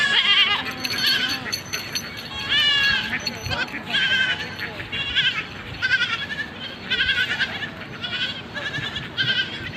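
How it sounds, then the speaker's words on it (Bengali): Several goats in an open field bleat again and again, in loud, wavering cries at close range that come in a steady run across the whole stretch. "শোনো ছাগল।"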